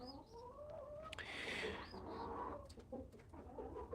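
Chickens in a backyard coop cluck and squawk in short bursts, close by, with a louder flurry in the middle and softer calls around it, mixed with faint indoor sounds.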